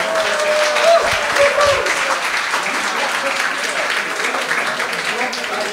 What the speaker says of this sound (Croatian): I zato vas molim da mu date podršku jednim toplim pljeskom.